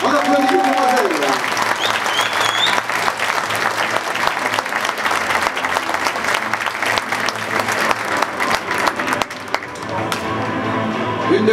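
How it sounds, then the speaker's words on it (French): A dense crowd at a multi-boxing gala breaks into sustained applause, steady and loud throughout, with a few voices cheering or calling out over the clapping. "On applaudit les demoiselles."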